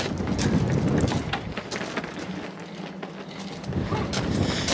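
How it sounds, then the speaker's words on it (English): Steady wind gusts outdoors during a running board step installation on a 2017 Ford F-series truck, buffeting the microphone as a continuous broadband rush with no speech. "It's a little windy today, so bear with me."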